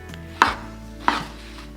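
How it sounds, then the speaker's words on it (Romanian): A knife chops washed mushrooms on a cutting board, making two sharp, close thuds about a second apart against a quiet background. "Începem cu ciupercile pe care le-am spălat înainte și urmează să le tocăm nu foarte mărunt"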